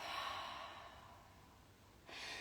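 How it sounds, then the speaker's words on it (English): A long, soft exhale out of the mouth during a guided breathing practice, a faint airy breath tapering off, followed by the start of another breath. "And then just exhale that breath out of the mouth."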